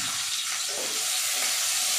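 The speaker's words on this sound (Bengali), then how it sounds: "এবার আলুগুলো ভেজে নেব" Cut potatoes fry in a pan, giving a continuous bright sizzle and hiss across the short stretch, fairly quiet, with no talking.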